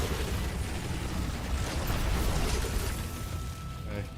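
A grenade or canister blows up in the Destiny 2 shooter, a dense, loud, roaring blast that stays broad and heavy for several seconds before tapering slightly, with a voice faintly mixed in.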